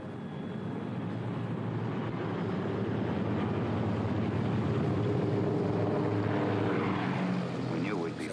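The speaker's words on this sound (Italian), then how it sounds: "Sentimmo il rombo dei motori quando gli aerei iniziarono a decollare." C-47 Skytrain aircraft engines roar during takeoff, a continuous loud propeller drone that builds steadily, with a voice faintly underneath.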